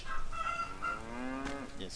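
A cow in the Life is Feudal medieval MMO video game lets out a single drawn-out moo, moderately close and fairly quiet, with a short clatter near its end and no talk.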